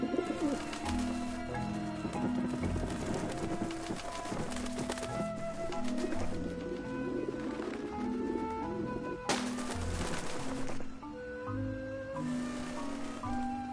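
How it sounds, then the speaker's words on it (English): Pigeons coo inside the video game Grim Fandango over steady game music, with a clip-clop beat and layered sound effects running throughout the continuous game audio. "And now we wait for the pigeons to get super scared."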